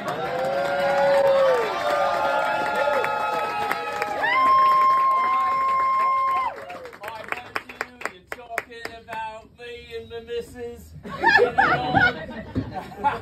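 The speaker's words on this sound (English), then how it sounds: "Everyone, a round of applause for my friend Nathan from London." A live comedy audience claps and laughs for a guest introduced on stage, with sustained applause early that breaks into scattered claps, chuckles and crowd noise, and some voices mixed in.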